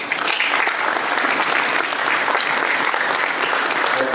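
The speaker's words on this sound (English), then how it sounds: "warm round of applause." An audience at a business conclave in Visakhapatnam claps warmly to welcome panelists, a dense, steady wash of applause from many hands that holds evenly and loudly throughout.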